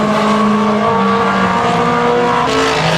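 Race cars at 250 Speedway in 2011 roar loudly and close by, their engines holding a sustained, shifting drone as they lap together.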